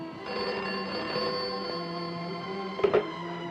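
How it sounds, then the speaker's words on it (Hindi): A telephone rings in a Hindi film scene, its steady tonal bell tone running continuously through the clip with a brief louder clatter near the end, heard alone without voices. "हाँ फोन है तुम्हारा"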